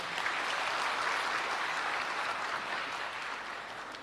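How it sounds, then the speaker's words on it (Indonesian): An audience at an Indonesian ustadz's religious talk applauds, a dense, even wash of clapping from many hands that holds steady and eases off slightly at the end. "berikan tepuk tangan"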